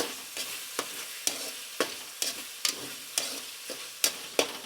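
Food fries in a pan for homemade gobi Manchurian under a steady, soft sizzle. About ten sharp spatula scrapes strike in a fairly even rhythm, roughly twice a second, close by.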